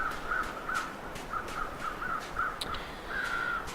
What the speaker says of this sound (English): birds flying around like that almost always mean a dead body